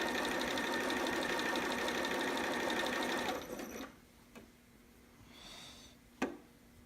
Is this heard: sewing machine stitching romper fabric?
yes